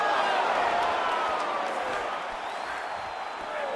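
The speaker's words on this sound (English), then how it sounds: "you can hear the crowd reaction every time he lands another hook" A crowd roars in a steady, noisy swell during a UFC 4 video game fight, with cheering and whoops rising over a continuous wash of sound.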